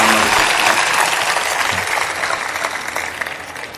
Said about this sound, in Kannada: ಒಂದು ಚಪ್ಪಾಳೆ ತಟ್ಟಿ